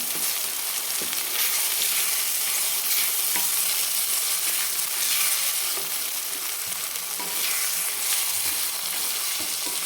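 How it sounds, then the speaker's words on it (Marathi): Four beaten eggs sizzle steadily in a hot pan on a low flame while being stirred and mixed, a continuous close frying hiss with faint scraping, no voices. "हे जे चार अंडे फोडून घेतले होते हे आपण अंडे टाकून घेऊ आणि छान मिक्स करून घ्यायचं याला गॅस स्लो ठेवायचा"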